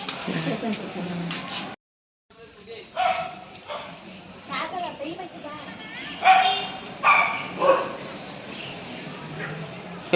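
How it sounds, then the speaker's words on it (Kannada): A dog at a riverside spot near Nanjangud gives several short yips and barks in bursts, mixed in with a person calling to it and other voices nearby. "ಬಾ ನಾಯಿ"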